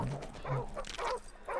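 A dog in the Call of Duty Modern Warfare Remastered video game barks in a quick series of sharp, moderately close woofs, with a few whiny yips among them.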